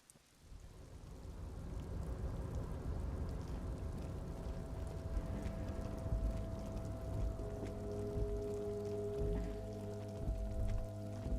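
Steady rain ambience from the game Disco Elysium, a dense wash of falling rain with soft droplet patter and a low sustained tonal hum underneath, continuous and moderately loud throughout.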